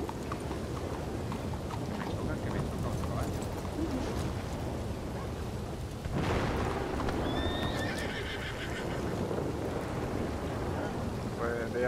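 A horse neighs in the Red Dead Redemption game (RedM roleplay), with hoof clatter and a rainy, busy outdoor backdrop. A sharp whinny cuts in partway through, followed by a brief higher cry.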